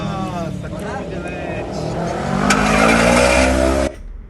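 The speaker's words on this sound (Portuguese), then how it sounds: "O motor de partida. Pode dar partida." A car's starter motor cranks the engine during an alternator diagnostic test. A whirring, rising mechanical drone swells louder for a few seconds, then cuts off sharply.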